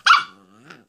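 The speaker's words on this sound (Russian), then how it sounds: "Джуля, ты злая собака?" A 10-week-old Wheaten terrier puppy gives one sharp, close bark that trails into a brief growl, followed by a faint second yip.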